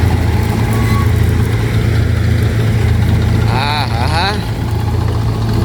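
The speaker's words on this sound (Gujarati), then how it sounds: "ઘઉં હજી ટ્રેક્ટર થોડુંક પાછું લેવું પડશે" A tractor engine idles on a farm while wheat is being unloaded, giving a steady low rumbling hum under a man's brief spoken reply and background voices.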